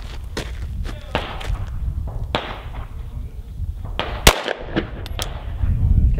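Handgun shots at an indoor shooting range, several sharp cracks spaced irregularly over steady background noise, with a loud shot near the middle.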